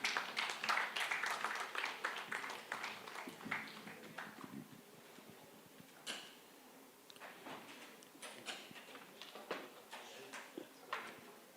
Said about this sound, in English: Can we have a big round of applause for Dr.